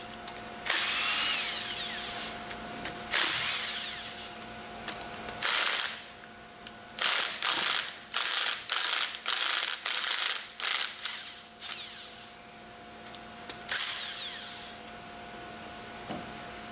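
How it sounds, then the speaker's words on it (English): An impact wrench loosens the manifold bolts on a General Pump MKS/LK plunger pump, with long whirring runs followed by a quick series of short, sharp rattling bursts, close and loud over a faint steady hum. "Use the impact wrench to loosen the remaining bolts in the order demonstrated."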